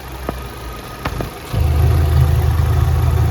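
An Opel Zafira 1.6 petrol/gas engine settles into a loud, steady low idle rumble after a few brief clicks and knocks. It sits close up with no talking.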